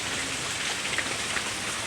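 Heavy rain pours steadily onto a garden of potted plants during a sudden summer downpour, a dense, even hiss of drops that holds at a constant level throughout with no voices.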